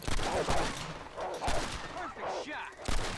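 Gunshots in the Western video game Red Dead Redemption, several sharp cracks in quick succession amid game noise, with a few vocal sounds between them.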